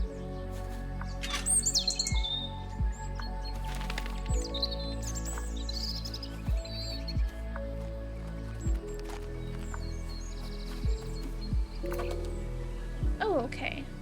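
Small birds chirp and tweet at a bird feeder in the video game Botany Manor, with scattered bright calls over soft background music while a person talks.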